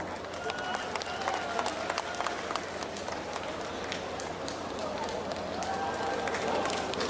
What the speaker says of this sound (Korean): 여러분의 큰 박수로 청해 보겠습니다